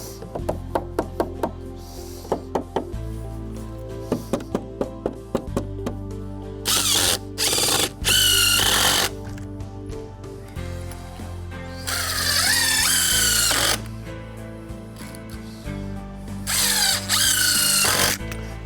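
Cordless power drill driving screws while deck stairs are assembled outdoors, with short bursts early on and then several longer whining runs at full speed, loud and close, with no talk.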